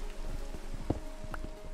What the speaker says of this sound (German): Wow, als ob es so früh anfängt zu regnen.